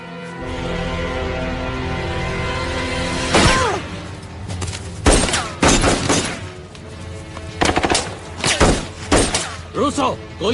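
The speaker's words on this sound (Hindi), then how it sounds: "रूसो, गोली चलाना बंद करो" Gunfire bursts in a Hindi action movie battle scene, with several sharp loud cracks and volleys clustered in the second half over a dense background of movement and voices.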